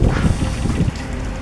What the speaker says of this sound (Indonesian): Badai angin guys